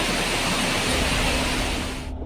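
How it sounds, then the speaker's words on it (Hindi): A swollen, rushing monsoon river in Dharchula, Uttarakhand roars as a loud, dense, continuous wash of water noise, steady throughout with no voices. "नीचे उफनती नदी,"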